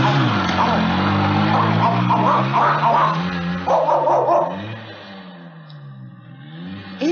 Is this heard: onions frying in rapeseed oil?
no